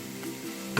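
Vegan momo filling of chopped cabbage is stirred in a pan, a brief soft sizzle and scrape ending in a sharper clatter of the spoon.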